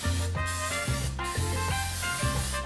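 Oil sprayed onto a giant nacho sombrero just before it goes into the oven: two short hissing spray bursts cut through steady background music.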